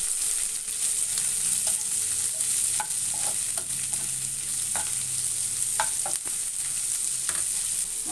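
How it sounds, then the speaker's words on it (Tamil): Sliced onions fry in oil for a South Indian potato masala, a steady loud sizzle running throughout with repeated scraping stirs of the pan at irregular intervals, no voices. "அடுத்தது வெங்காயத்தை போட்டுக்கிறேன். நல்லா மிக்ஸ் பண்ணிக்கோங்க."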